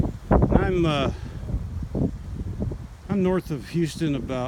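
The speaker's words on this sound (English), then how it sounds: "It's crazy windy off and on." Gusty wind buffets the microphone with low rumbling noise under someone talking nearby, outdoors at a beekeeping apiary in Texas in February.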